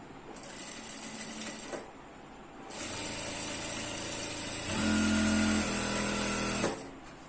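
A sewing machine stitches around the elastic waistband of ankle-length pants in bursts: a short run, a pause, then a longer steady whirring run that grows louder midway, close and mechanical, with no talking.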